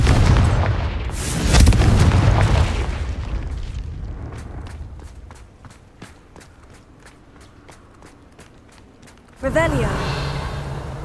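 A Confringo blasting spell in Hogwarts Legacy erupts as a heavy, booming explosion early on, its roar trailing off before a run of evenly spaced footsteps, followed by a second loud burst near the end.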